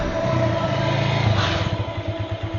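Car and motorcycle engines idle and rev in a traffic jam, a steady low rumble with a throaty surge of revving near the middle, continuous and fairly loud throughout.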